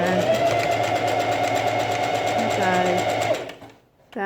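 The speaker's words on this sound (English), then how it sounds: "Then I'm just going to do a little back tack stitch," A sewing machine runs a short back tack stitch on a simple fabric face mask, whirring steadily and close up before winding down and stopping, then starting again briefly at the very end.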